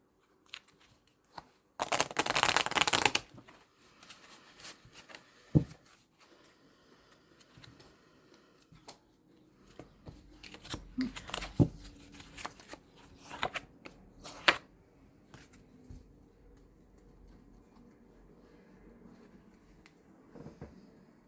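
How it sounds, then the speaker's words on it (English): Tarot cards handled and laid out on a table: a brief loud burst of rapid riffling early on, then scattered soft slaps, flicks and taps as individual cards are placed, with quiet stretches between. "I'm going to put the cards where I feel intuitively drawn to put them"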